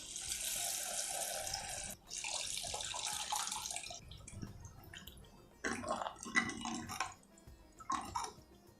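Tamarind water, made by dissolving a lemon-sized lump of tamarind in three to four cups of water, pours steadily into a cooking pot with a broad splashing rush, then breaks into shorter gushes and trickles near the end.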